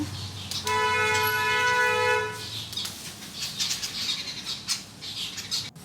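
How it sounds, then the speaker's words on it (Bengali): Loud, close bird squawks and wing flapping, mixed with a long tonal horn-like toot early on, then repeated squawking calls over a busy outdoor background during light rain. "দেখো কতগুলো পাখি এসেছে"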